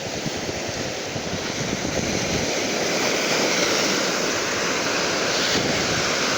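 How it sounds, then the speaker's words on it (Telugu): Sea waves crashing and surging on an Andhra shoreline, a loud continuous roar of surf with wind noise buffeting the microphone throughout, no voices. "దీంట్లో దీంట్లో అంతా వాటర్ వచ్చి పడుతున్నాయి"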